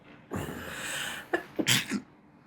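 One close sneeze with a breathy build-up, followed by a couple of quick sniffs or small follow-up bursts, in a quiet room.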